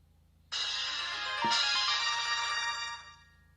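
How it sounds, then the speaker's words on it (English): A phone notification tone sounds once, a bright chiming ring that starts abruptly, holds for about two and a half seconds and fades, over quiet room hiss. "I got a notification exactly when I started broadcasting"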